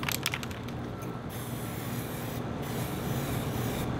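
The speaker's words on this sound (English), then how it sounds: "You get the primer and you spray that on first." Epoxy primer sprayed from a can onto bare car metal, a steady close hiss running for about four seconds with a few short sputters at the start.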